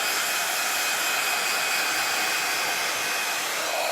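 A hair dryer blows on a freshly painted Halloween sign to speed the paint drying, giving a loud, steady, unbroken whoosh for the whole stretch with no talking.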